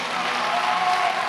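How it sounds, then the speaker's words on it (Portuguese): An audience at a university law week event applauds the coordinator, a brief continuous wash of clapping heard on its own without talk. "Salva de palmas para o nosso coordenador."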